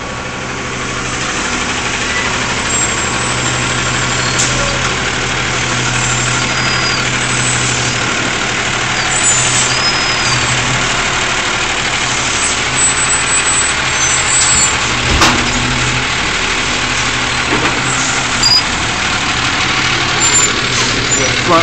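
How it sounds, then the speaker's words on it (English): A frontloader garbage truck on a beach route in Indian Rocks Beach, Florida, dumps trash overhead: a loud, steady engine rumble and mechanical whine runs throughout, with occasional clanks. "Frontloader garbage truck dumps all the trash overhead."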